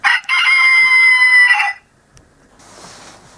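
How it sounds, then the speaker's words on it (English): A loud synthetic rooster crow plays as an alarm tone from a Reflex talking watch, one sustained call lasting about a second and a half, then near silence with faint background hiss. "Or imagine being woken up by a rooster."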